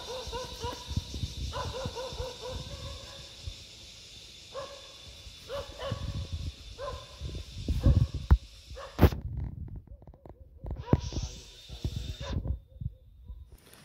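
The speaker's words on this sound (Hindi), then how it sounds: "देख रहे हैं वहाँ जाकर भी भौंक रहा है अभी वो" A village dog near a leopard sighting gives a series of sharp barks in irregular bursts, with whimpering yelps and rustling handling noise between them, moderately distant outdoors.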